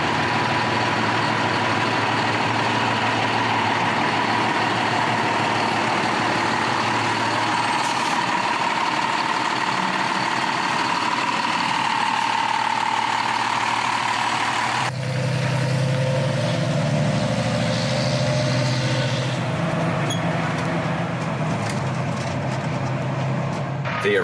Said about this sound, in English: The power is turned on and the engine started